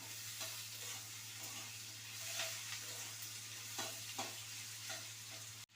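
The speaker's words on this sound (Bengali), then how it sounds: "হ্যাঁ, একটু ভেজে নেব।" Potatoes fry in a pan on a home stove, giving a soft, steady sizzle with occasional gentle stirring scrapes over a constant low hum, fairly quiet and close.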